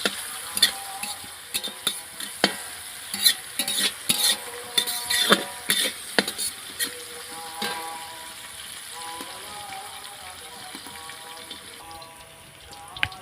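Bay leaf and whole spices sizzle in hot oil in a pan while preparing fried rice for a picnic, a loud close frying hiss punctuated by clattering stirs with a utensil against the pan, easing to steadier sizzling.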